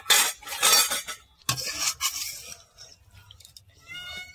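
A metal utensil mixes mustard paste with river bata fish in a bowl, giving close scraping and clinking strokes in quick bursts. The strokes then fade into quieter, sparser taps.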